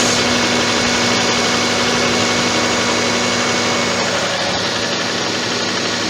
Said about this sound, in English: There's a rattling noise. I think it might be one of the belts.